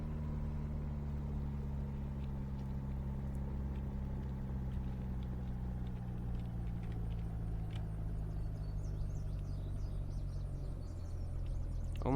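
A plane coming in to land in the video game Unturned: a steady, droning engine hum with a low rumble that slowly drops in pitch, continuous and fairly close, with no talk.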